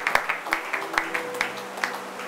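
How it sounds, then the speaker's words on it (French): A church congregation claps for the Lord during a worship service: a brisk run of fairly loud, rhythmic claps close by, with a faint voice beneath. "me give God a hand of applause"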